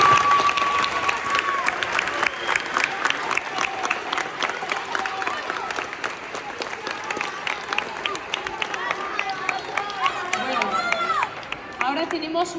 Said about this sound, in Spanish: Hacémosles un gran aplauso.